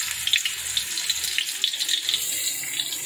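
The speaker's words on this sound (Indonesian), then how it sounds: "Ini sudah kita panaskan minyak ya, sedikit minyak. Kemudian kita akan masukkan bawang putih cincang," Minced garlic dropped into a little hot oil, giving a continuous close, bright hissing sizzle with no talk.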